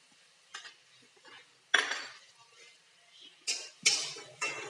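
Potato chutney being sautéed with ground chili and turmeric in a pan, heard as scattered stirring scrapes and utensil clinks against the pan, with a few sharper knocks near the end and faint background voice.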